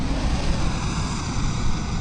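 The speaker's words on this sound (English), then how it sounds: "That plane taking off is loud." An airliner taking off at an Oceania airport in Microsoft Flight Simulator 2020 roars in a loud, broad, steady engine rush that fills the short stretch without a break.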